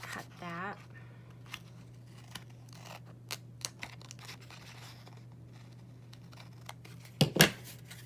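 Scissors snip through a sticker during a craft session, giving a few faint, brief cuts spread across a quiet stretch, with a louder crunchy snip near the end and a short burst of talking at the start.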